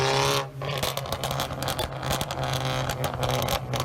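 Car exhaust with a crackle tune, burbling, popping and banging as it heats up, with a loud sustained engine drone broken by irregular sharp cracks and bursts, close up.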